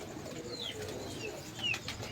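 Pigeons on a Lahore rooftop give soft, faint calls and a couple of brief high chirps over a steady outdoor background hiss, with no voices nearby.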